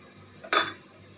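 A utensil knocks once against a bowl while stirring melted chocolate, a single short clink after a soft scrape, alone in a quiet room.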